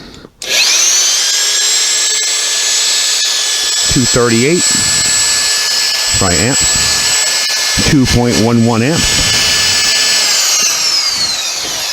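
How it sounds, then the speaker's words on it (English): An electric hammer drill runs loud and steady throughout, a constant high whine with a few short pitch swoops, while someone talks over it. "you'll hear the hammer drill in the background, of course."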